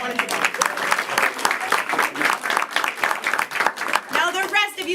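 A live comedy show audience applauds volunteers with loud, sustained clapping throughout, and a voice talks over the applause near the end.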